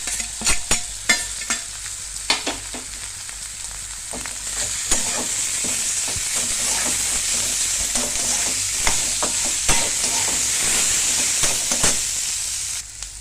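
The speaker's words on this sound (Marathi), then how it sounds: "आता याच्यात उकडून ठेवलेले हे चार बटाटे तर ते घालायचे" Boiled potatoes go into a hot frying pan and are stirred, making a steady loud sizzle with repeated spoon scrapes and taps against the pan.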